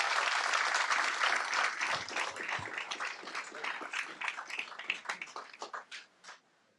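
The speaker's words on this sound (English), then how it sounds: "So please give them a round of applause." Applause for a high school golf team at a school board meeting: a room of hands clapping steadily, then thinning to scattered claps before fading out.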